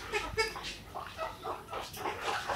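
Chickens in a farm shed give soft, scattered clucks and murmurs in short bursts, close by and fairly quiet, with no talking.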